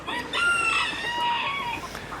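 Chickens, including a rooster, cluck and call up close on a farm, with overlapping loud, harmonic squawks and a drawn-out crow-like cry that fill the whole stretch.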